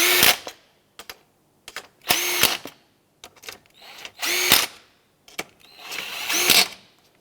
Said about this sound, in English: I'm just going to take my socket on the impact and snug them up